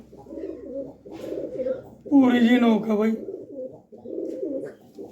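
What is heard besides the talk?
pigeons cooing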